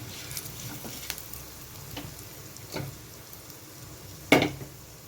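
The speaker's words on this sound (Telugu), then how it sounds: "మనము ప్యాన్ పెట్టేసుకొని కాస్త ఆయిల్, జీలకర్ర ఆవాలు, చిన్నగా చాప్ చేసుకున్న పచ్చిమిర్చి, కరివేపాకు వేసుకోవాలి." Tempering sizzling in hot oil in a pan with cumin, mustard seeds, chopped green chillies and curry leaves, a soft steady fry with faint crackles, scattered ticks and one sharper pop near the end.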